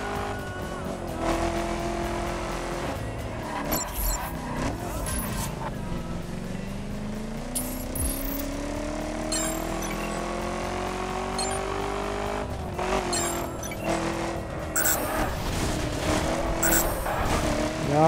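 A car engine revs hard and climbs through gears in the racing video game The Crew, loud and continuous with rising whine, tire squeal and skids, and a voice talking over it at times.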